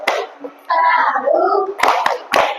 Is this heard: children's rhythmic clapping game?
yes